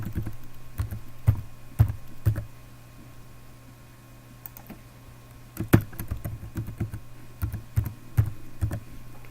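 Keys on a computer keyboard are tapped in short bursts of close, sharp clicks with pauses between them, while a steady low electrical hum runs underneath.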